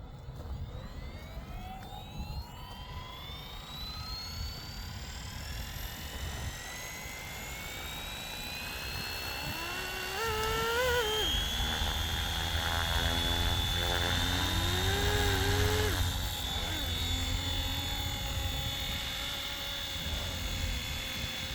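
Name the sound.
Flywing FW450 RC helicopter flying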